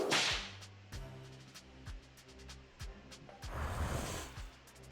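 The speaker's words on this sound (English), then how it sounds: "Peaches really responded well to the crack of the whip." A loud bullwhip cracks in a border-guard video game, a sharp snap followed by other game effects and music tones, with no speech.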